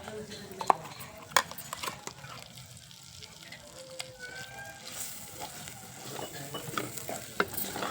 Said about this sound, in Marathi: हे वाटण वाटलेलं आता टाकून घेऊ त्यामध्ये